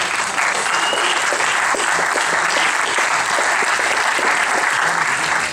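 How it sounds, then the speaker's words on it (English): Dense, sustained applause from a crowd at a post-fight MMA press conference, steady and loud throughout with no break in the clapping. "they deserve a round of applause"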